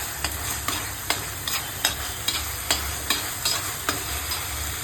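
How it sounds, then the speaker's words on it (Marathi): Spices for chicken biryani are stirred and fried in a pan, with about ten regular spoon strikes against the pan over a continuous close sizzle. "त्याला चांगलं ढवळायचं."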